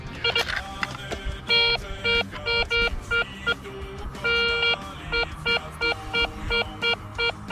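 A metal detector emits repeated electronic tones, short beeps and warbling pulses in uneven bursts, over a faint background rustle.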